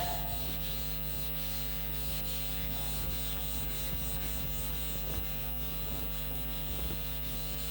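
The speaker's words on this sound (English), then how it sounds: "So, I will rub this one." Writing on a classroom board is rubbed out in short repeated scrubbing strokes, soft and close, over a steady background electrical hum.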